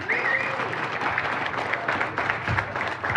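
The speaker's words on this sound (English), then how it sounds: "Let's give a round of applause for Borough Controller Andy Genovese" Crowd applause at an outdoor political rally in Dunmore, steady clapping from many hands throughout, fairly close and continuous, with a few scattered cheers.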